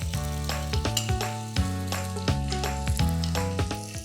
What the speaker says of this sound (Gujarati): એને બરાબર તેલમાં સાંતળી